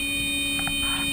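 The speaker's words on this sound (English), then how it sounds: "Suddenly, the alarm sounds." A steady electronic airplane alarm tone drones continuously, loud and unbroken, with faint shifting noise beneath it.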